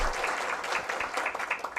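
Steady audience applause at an evening session of a national state-law advocacy congress, many hands clapping in a dense, even patter with no voices over it.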